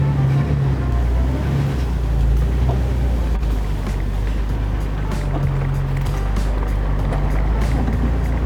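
A 2003 Jeep Wrangler TJ engine drones steadily up close with a low rumble, shifting pitch slightly as it drives along on a test drive; no talking.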